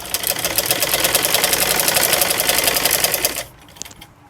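A sewing machine runs steadily at a fast, even rhythm, stitching along the edge of a fabric strip, loud and close, then stops abruptly near the end.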